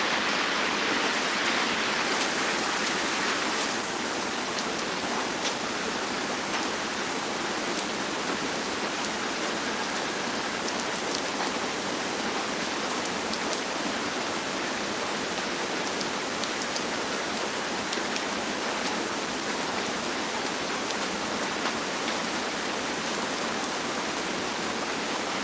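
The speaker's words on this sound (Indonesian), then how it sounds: "Hujan, kapan kau berhenti hujan?" Steady, heavy rain falls continuously in a village setting, a dense even hiss that persists without a break.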